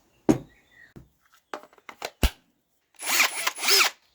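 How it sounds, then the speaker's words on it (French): Short bursts of a cordless drill spinning up, several quick stop-start whirs followed by a longer, steadier drilling run near the end. "vous allez prendre votre perceuse et percer"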